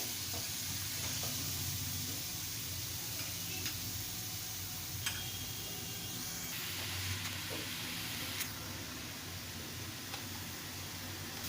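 Grated radish sautéing in a pan for a radish and pea bhaji, giving a steady, fairly loud sizzle with faint ticks and stirring scrapes throughout, and no voices.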